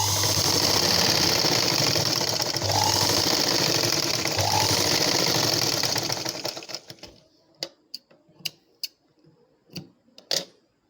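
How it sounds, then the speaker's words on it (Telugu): A sewing machine stitching darts on a blouse runs in a loud, continuous whirring burst for about six seconds, then stops, followed by several sharp isolated clicks and taps from handling the fabric and machine. "ఈ విధంగా మనం 2 లైన్స్ స్టిచ్చింగ్ చేసుకోవాల్సి ఉంటుంది షేప్ దగ్గర."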